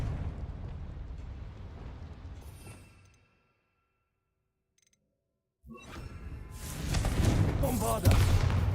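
A Confringo blast curse explodes in the Hogwarts video game, a dense roaring burst that fills the opening seconds, drops into near silence, then returns as a louder, sustained crackling blast near the end.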